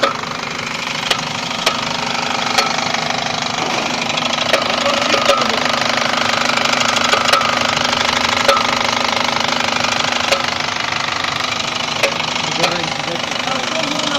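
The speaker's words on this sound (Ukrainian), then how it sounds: "Вот это вот стучит," An Opel car engine idles with a steady, regular metallic knocking ticking through it, recorded up close during a diagnostic check.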